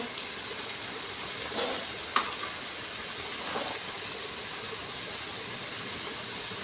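Spices frying for a Bengali fish curry, a soft steady sizzle in the pan with a few faint stirring scrapes and clicks, quiet and continuous with no talking.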